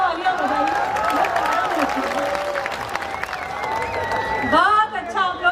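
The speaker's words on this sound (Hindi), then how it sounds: "एक बार तालियां वालियां बजाइए।" An audience applauds at a Hindi comic poetry gathering (kavi sammelan), a steady wash of clapping and some cheering that runs throughout, with a voice speaking over it near the end.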